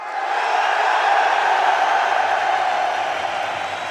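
Huge esports arena crowd in Lisbon roaring at a BLAST Premier Counter-Strike grand final, Team Vitality vs MOUZ, a loud sustained wall of cheering that swells slightly and holds for several seconds.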